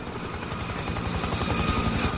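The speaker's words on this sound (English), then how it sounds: "Incoming helo." A helicopter in the video game Spec Ops: The Line chops steadily overhead with a throbbing, continuous rotor beat, loud and close throughout.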